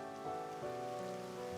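Rain falling in the video game Glass Princess, a quiet, even patter of drops on a surface under a sustained musical tone, with no voices.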